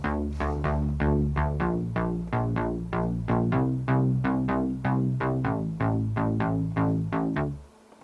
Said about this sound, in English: Here's an analog bass.